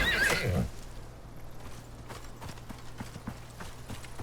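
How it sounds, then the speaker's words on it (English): Horses in the video game Icarus: a horse whinnies loudly at the start, followed by steady clip-clopping hooves and a low mechanical hum in the background. "The horses are so aggressive."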